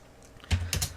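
A computer keyboard is pressed in a short combination while running a C program, giving three quick, close clicks after a near-silent start.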